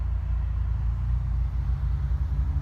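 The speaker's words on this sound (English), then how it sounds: "CT traffic right here." Steady low engine rumble of afternoon rush-hour highway traffic on I-84 in Connecticut, a continuous droning wash of passing vehicles heard close, with no voices.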